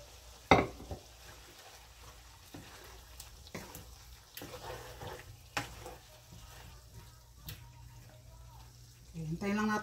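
Vegetables for pakbet frying in a pan, with a soft steady sizzle, intermittent clacks of a utensil stirring, and a person talking throughout.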